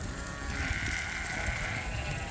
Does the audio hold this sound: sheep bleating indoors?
yes